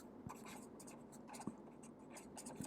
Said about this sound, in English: So I write here